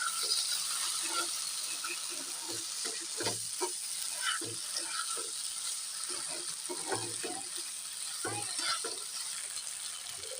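A taro leaf and hilsa fish curry with lemon juice is stirred in the pot, soft scraping and clinking of a spoon over a faint, continuous sizzle.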